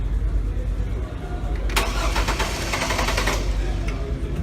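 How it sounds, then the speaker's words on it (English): A car engine cranks over on its starter during a compression test, giving a steady, close, rhythmic churning. A brief louder burst comes midway. No one speaks. "we're gonna have him crank the vehicle over and get the reading"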